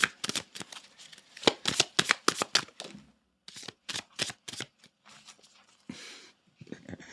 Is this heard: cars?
no